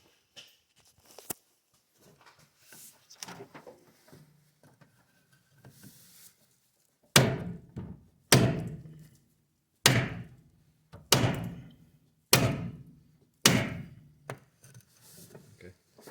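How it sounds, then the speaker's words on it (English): A steering shaft on a 1990 Ford F150 is driven into its U-joint with a piece of wood: six sharp, close knocks at roughly one-second intervals, following quieter handling clatter. "now I have to tap it in place"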